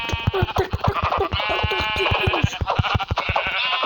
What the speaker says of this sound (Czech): A nejlepší způsob, jak zabíjet ovce,